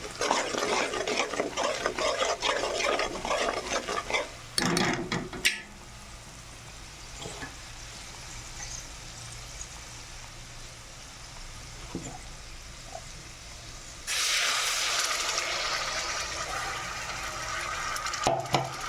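Turmeric, salt and masala fry and get stirred in a pan for mutton, a steady sizzle with scraping stirs, loudest at the start and again near the end, with quieter stretches between.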